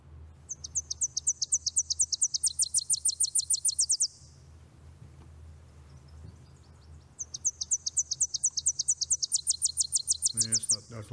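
A Tennessee warbler song played from a recording: two bursts of rapid, high, accelerating chipping trills, each a few seconds long, separated by a short pause, over a low steady hum.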